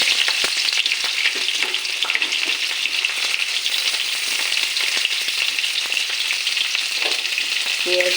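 Chopped onions frying in a pan with a loud, continuous crackling sizzle that runs without pause, plus occasional faint scrapes as they are stirred.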